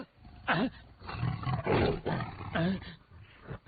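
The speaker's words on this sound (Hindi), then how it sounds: "ये तो बाघ है।" A tiger lets out a series of loud, close roars, several separate bursts over a few seconds with brief gaps between them and no speech.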